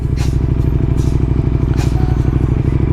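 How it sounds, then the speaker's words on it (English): Motorcycle engine idling low under light throttle with the clutch partly slipped, a steady, loud, rapid-firing rumble that holds even throughout, with faint clicks above it. "We're just going to slowly let it out, give it a little bit of gas, and it's almost like we're walking the bike faster."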